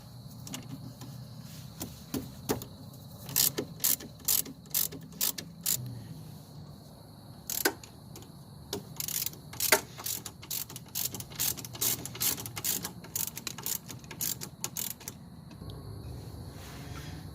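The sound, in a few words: ratchet loosening Allen head brake caliper bolts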